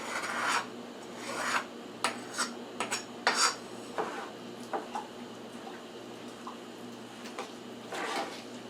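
A spoon stirs cheese, spinach and garlic rice inside a rice cooker, giving uneven scraping and rubbing strokes in short bursts with quiet gaps between them and no talking.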